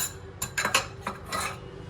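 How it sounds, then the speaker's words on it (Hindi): Dishes and utensils from a meal are washed at home, with a quick series of close clinks and clatters of pots and cutlery, alone without talk. "मैं यहाँ पे थोड़े से बर्तन है, ये भी खाना खाया था, इनको धो के रख देती हूँ"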